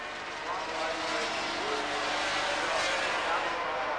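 500cc Grand Prix racing motorcycles at the 1987 German Grand Prix roar past, their high engine whine filling the air continuously and swelling as they go by, with a commentator talking over them.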